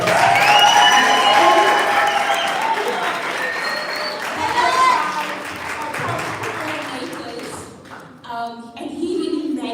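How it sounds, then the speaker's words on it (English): Applause and some cheering from a crowd at an agri-tech launch event, mixed with tonal sounds and voices that thin out toward the end before another brief rise. "Just give me a round of applause"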